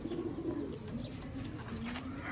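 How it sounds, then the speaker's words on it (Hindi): Ferozpuri pigeons from a breeder pair coo in steady, low, throaty calls, close and continuous, with a few faint higher chirps from other birds in the background. "दोस्तों जो अच्छे से अच्छे फिरोजपुरी कबूतर होते हैं इंशाल्लाह वही आपको इस वीडियो में देखने को मिलेंगे"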